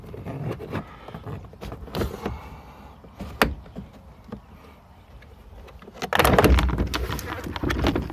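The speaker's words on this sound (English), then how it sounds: "Pull out on the door." Clicks and thumps as a door is pulled loose from a Gen 4 Ram 1500 pickup, with scattered snaps of trim clips and a louder rattling burst of handling noise near the end, close up.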